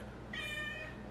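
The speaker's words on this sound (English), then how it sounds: "I told you it was a little kitty." A small kitten gives a single short, fairly faint meow over steady room noise.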